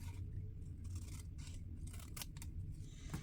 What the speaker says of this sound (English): I am going to trim